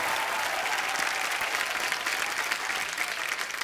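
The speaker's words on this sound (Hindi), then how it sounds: "आप सबकी जोरदार तालियों के बीच इनवाइट करना चाहूंगा" Studio audience on The Kapil Sharma Show applauds warmly to welcome a guest, with steady, dense clapping throughout a few seconds and no talk over it.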